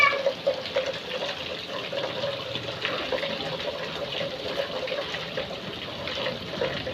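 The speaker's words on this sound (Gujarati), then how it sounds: "ટાંકામાં પણ પાણી આવે છે જમા થાય છે પાણી" Rainwater pours steadily into a storage tank during a downpour, a continuous splashing and trickling wash that stays at an even, moderate level throughout with no talking.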